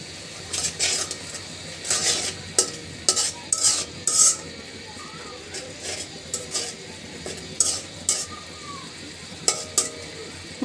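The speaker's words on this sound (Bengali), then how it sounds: "মশলাটা সুন্দর করে কষিয়ে নিলে" Spices being stirred and sautéed in a wok just before vegetables go in, with repeated sharp metal spatula scrapes and clinks over a low, steady sizzle, close and fairly quiet.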